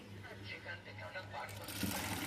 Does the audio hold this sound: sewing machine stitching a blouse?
yes